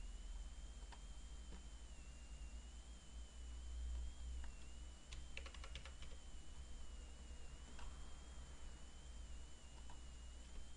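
Light typing on a computer keyboard during drafting work, with sparse soft key taps and a few quick clusters of clicks over a steady electronic whine and background hiss.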